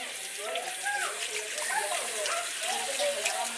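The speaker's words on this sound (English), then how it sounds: "Then open the water" Tap water runs steadily to rinse out a plastic onion cutter, a continuous splashing hiss throughout, with faint voice-like sounds in the background.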